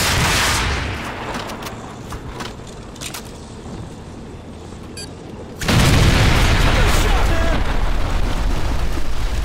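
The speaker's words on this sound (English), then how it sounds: "we're taking heavy fire on our position north of the overpass!" Gunfire and blasts from the Call of Duty 4 mission The Bog, heavy rumbling explosions and scattered shots at a loud opening, a quieter stretch of pops, then a sudden loud roaring burst of combat noise, with shouted voices mixed in.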